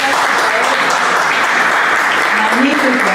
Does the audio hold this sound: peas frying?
no